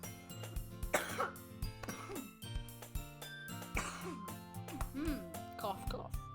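A person gives a couple of spoken coughs while voicing a character from the visual novel Doki Doki Literature Club!, heard over steady, looping game background music.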